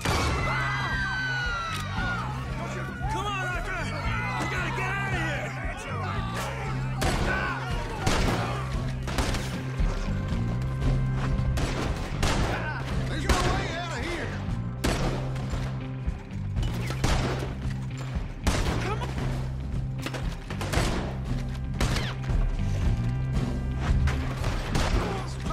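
Repeated gunshots crack through a shootout in Red Dead Redemption 2, steady bursts over a rhythmic low backing score, with shouted voices early on and reports continuing throughout at close range.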